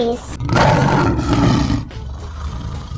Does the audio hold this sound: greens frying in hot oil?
no